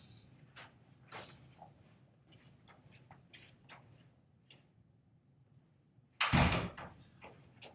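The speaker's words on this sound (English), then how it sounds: "Let me close this door." A door closes with one loud thump after a stretch of faint shuffling and small clicks in a quiet room.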